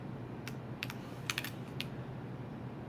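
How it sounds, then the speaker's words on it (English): Typing on a computer keyboard while entering code, a few quick scattered keystrokes over a steady low hum, fairly faint and close. "I'm going to type math.floor."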